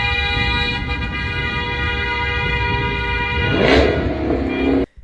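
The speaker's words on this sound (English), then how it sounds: "these agents are getting honked at and yelled at" Car horns honk at federal agents on a busy street, a sustained blaring horn tone holding steady under traffic noise before a burst of louder commotion and an abrupt cutoff.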